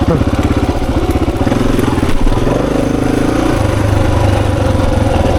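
A 26-year-old Honda XR400 enduro motorcycle is ridden on a hard singletrack loop, its single-cylinder engine thumping loud and close with a steady pulsing beat that shifts pitch as the throttle changes.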